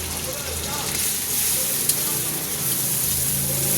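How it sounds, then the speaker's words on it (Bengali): Ginger-garlic paste fries in hot oil with a steady, dense sizzle that holds even throughout, close and fairly loud, with faint stirring mixed in. "আদা রসুনটা একটু ভেজে নেব।"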